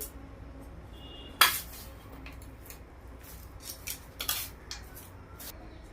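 A spoon clinks sharply once in a bowl, then scrapes and taps in scattered strokes, mixing chaat masala into a vegetable patty filling with ripe mango flavour.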